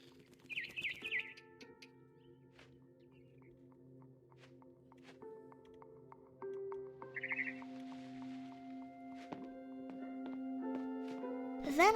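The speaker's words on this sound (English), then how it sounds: "Then I heard chirping outside my window. It was a barn swallow going back to her nest." Barn swallow chirps outside a window in the video game What Remains of Edith Finch, brief high twittering bursts near the start and middle over a quiet ambient music bed, with a rising sweep at the end.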